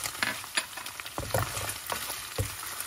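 Ginger and garlic stirred into a hot pan for banana coconut soup, a steady close sizzle and frying crackle with scraping stirs and a few sharper knocks of a utensil against the pan.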